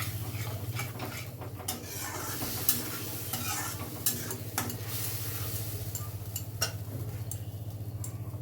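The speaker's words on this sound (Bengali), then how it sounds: "আবারও মশলাটা ভালো করে কষিয়ে নেব।" Spice paste with a little added water fries in a wok while being stirred, a close, steady sizzle broken by repeated scraping and clinks of a utensil against the pan.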